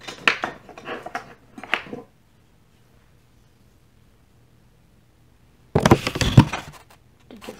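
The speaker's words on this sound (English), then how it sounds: "So now I believe I'll use my palette knife." A palette knife spreads acrylic paint across canvas in short, close scraping strokes, a burst of several at first, a long silence, then another denser run of scrapes.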